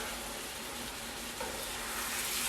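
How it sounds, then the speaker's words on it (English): Yogurt-marinated chicken frying in a pan, a faint continuous sizzle and hiss, steady with no voices. "We've got a chicken there frying off."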